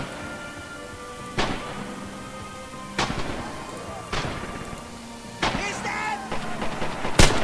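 Rifle gunfire in the video game Red Orchestra 2: about five sharp, separate shots spaced a second or two apart, ringing over a low battlefield rumble, with the last shots coming slightly quicker.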